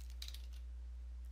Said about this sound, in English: Now the command you want to type in is clean